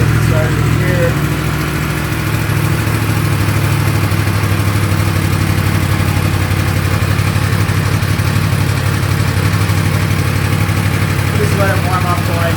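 A brand-new Yamaha R1M motorcycle idles steadily while warming up, its engine a constant close, loud rumble with no change in pace throughout.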